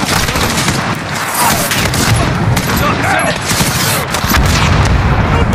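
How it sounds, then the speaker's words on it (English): Missile strike in the Call of Duty Modern Warfare video game, dense loud crackling blasts and rumbling booms, continuous and close. "Missile inbound."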